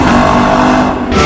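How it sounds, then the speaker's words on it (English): A 2026 sports car engine, a Lexus LC500 or Porsche 911, gives a short, loud, steady growl with a rich, rumbling tone that holds for about a second before easing slightly. "Starting with the one that does the most growly vroom vroom"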